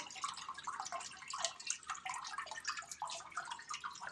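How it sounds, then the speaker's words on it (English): Water trickles and drips steadily out of a paper-making mould holding wet recycled pulp with flower petals, a close, continuous splashy patter with no talk over it. "Pull it out. Water is coming out."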